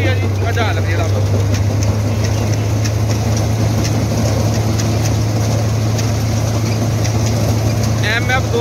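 An MF 260 chopper machine runs at 1800 RPM with a loud, steady engine drone and low hum that stays constant throughout, mixed with mechanical rattle and some wind noise.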